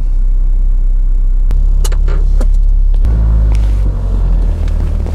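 A Renault Twingo with an ABS warning-light fault runs close by as it drives out of a garage. A heavy, steady engine rumble is marked by a few clicks and knocks, and the low drone deepens partway through.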